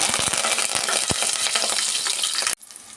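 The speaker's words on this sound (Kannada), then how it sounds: "ಸಾಸಿವೆನೂ ಸ್ವಲ್ಪ ಸಿಡಿಲಿ." Mustard seeds and curry leaves crackle and splutter in hot oil for a jerige menasu rasam, a dense loud sizzle with sharp popping bursts that stops abruptly near the end.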